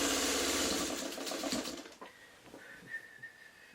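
Sewing machine stitching quilt blocks together, running in a steady, rapid, loud whir for about two seconds before stopping, followed by quieter handling noises and a faint tone.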